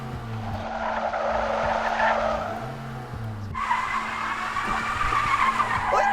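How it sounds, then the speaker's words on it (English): A car's tires squeal loudly as it pulls away, a sustained skidding screech that surges again halfway through, close and alone without speech. "Don't squeal your tires because you're likely to get a second traffic stop"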